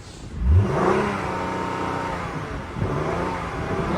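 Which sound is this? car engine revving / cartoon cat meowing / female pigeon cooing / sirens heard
car engine revving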